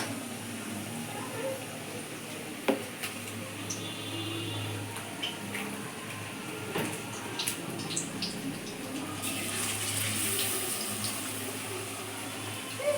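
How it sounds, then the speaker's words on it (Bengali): Eggplant fritters (beguni) fry in hot oil with a continuous bubbling hiss that fills the clip, moderately loud and close, broken by a few small clicks. "ডুবিয়ে এই যে ছেড়েছি বেগুনিটা"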